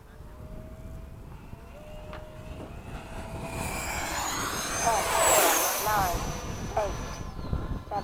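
A Freewing 80mm F-5 radio-controlled jet makes a low pass at a flying field at sunset, its turbine whine rising to a loud peak as it sweeps close by, then fading away, with radio chatter and other noise around it.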